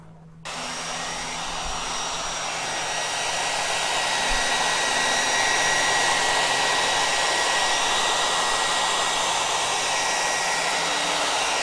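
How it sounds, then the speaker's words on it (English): A household hair dryer switches on and blows continuously to warm honey and melt wax cappings during a honey harvest, a close, loud, steady whooshing whine with a faint tonal hum and no voices. "we've got his mom's blow dryer and we're using it to kind of melt the wax cappings and get the honey hot so it'll go down faster"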